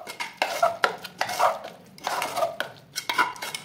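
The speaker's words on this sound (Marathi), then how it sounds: "हे सगळं आपण मिक्स करून घेऊया" Chopped onions, green chillies and tomatoes being mixed in a bowl, close, with repeated clinking and scraping of a utensil against the dish in an uneven rhythm of short bursts, no talk.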